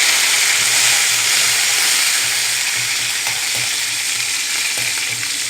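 Curry leaves hit hot oil with popping mustard seeds, giving a loud, steady sizzle and hiss that stays constant throughout, up close with no talk.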